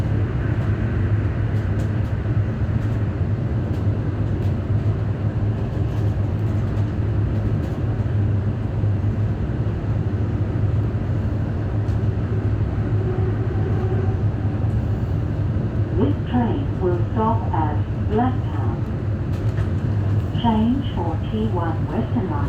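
A Sydney Blue Mountains D-set train rumbles along the rails with a steady, loud, continuous low drone and faint rattles, heard from on board, with a voice speaking over it near the end.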